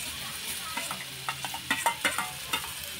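Mashed boiled potato being stirred into an eggplant mixture for labad vang, with a steady run of soft, wet scraping strokes close by and a faint sizzle underneath, with no one talking.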